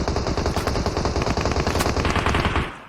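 Rapid automatic gunfire in PUBG Mobile on the Sanhok map, a steady burst of loud shots running continuously for about three seconds before cutting off abruptly.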